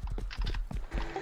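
Horse hooves clip-clop in a quick, steady rhythm in the survival video game DayZ, fairly close and clear, with a few faint background sounds and no talking.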